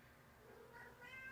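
A cat meows, a short faint plaintive call rising toward the end, heard alone against quiet room tone.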